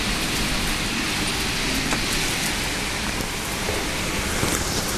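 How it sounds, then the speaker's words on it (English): Steady rain falls outdoors in a dense, even patter with scattered drops striking a surface, continuous and fairly close, with no voices. "It's gonna rain."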